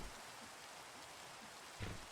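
Steady rain falls in a Minecraft modpack world, a soft, even hiss of drops that holds throughout, with one brief low thump near the end and no voices.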